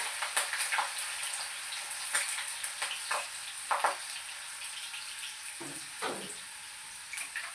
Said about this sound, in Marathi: मी आता मिरच्या तळून घेते याच्यामध्ये.